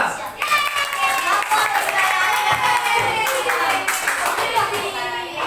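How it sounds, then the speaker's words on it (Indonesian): Students in a classroom clap for a presenting group, a few seconds of brisk, bright applause with some children's voices and cheering mixed in. "Oke, tepuk tangan untuk kelompok 5."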